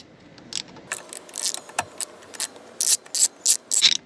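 A 4 mm Allen socket on a ratchet removes the nameplate bolts on a Kawasaki exhaust, giving quick bursts of close, sharp clicking that speed up and repeat several times.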